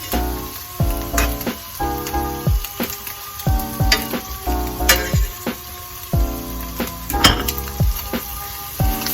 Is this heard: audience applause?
no